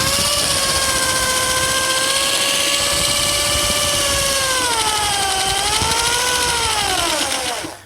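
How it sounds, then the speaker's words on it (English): A drill fitted with a paddle bit churns a batch of aircrete mix, giving a loud, continuous motor whine that holds steady and slightly wavers in pitch before winding down at the end. "That's the drill"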